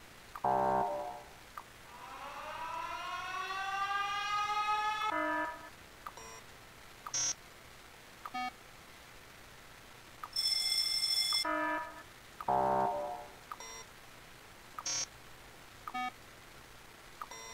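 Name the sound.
alarm signal in the video game Factorio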